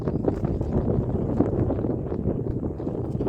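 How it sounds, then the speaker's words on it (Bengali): Strong wind on a river in the Sundarbans buffets the microphone in a steady, rumbling roar that barely lets up. "আজকে কিন্তু বাইরে প্রচণ্ড হাওয়া"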